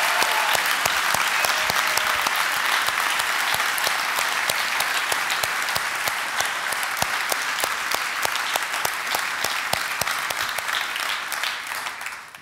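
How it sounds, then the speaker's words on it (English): A conference audience at a venue gives a long, steady round of applause for a speaker, dense and fairly loud clapping with a few sharper individual claps standing out, fading only at the very end. "let's give a round of applause to Mark"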